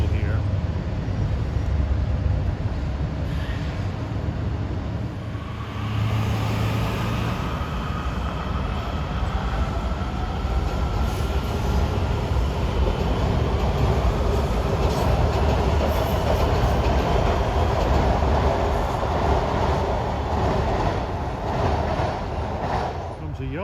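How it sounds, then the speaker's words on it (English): A Yellow Line Metro train arrives at King Street station in Alexandria, a sustained rumble with a gradually shifting whine as it rolls in, steady and fairly loud throughout. "There's a yellow line train arriving King Street, Alexandria on the Metro."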